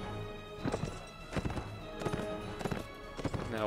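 Horse hooves clip-clop in Mount & Blade Warband, a medieval battle video game, in several clustered bursts of hoofbeats over steady background game noise, with an occasional whinny.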